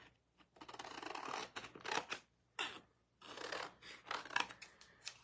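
Scissors cutting a small square out of a vinyl sheet, close and quiet, in irregular bursts of snipping and crisp rustling with short pauses between.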